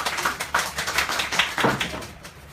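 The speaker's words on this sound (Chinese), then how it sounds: "请大家拍拍手" A small audience at a talk claps to welcome a speaker, a short patter of overlapping hand claps lasting a couple of seconds.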